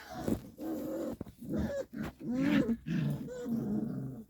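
Low, rumbling dog growls up close, rising and falling in several rough bursts with brief pauses between them.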